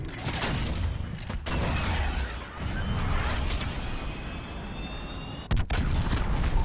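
A missile launches and strikes in a Modern Warfare game, a sustained mechanical roar and whoosh with creaking tones, a sharp burst near the end, then the rumble carries on, loud and with no talk.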